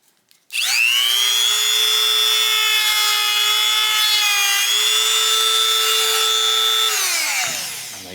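A sanding disc whines at a steady high pitch for about six seconds, dipping slightly midway, then winds down as it spins to a stop.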